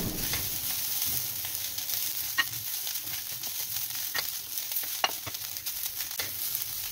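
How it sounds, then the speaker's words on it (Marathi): Fresh grated coconut filling sautés in ghee over a low to medium flame, giving a steady gentle sizzle with regular scraping clicks from the stirring spoon. "एक 2 मिनिटं चांगलं परतायचंय त्याला मंद मीडियम फ्लेमवर."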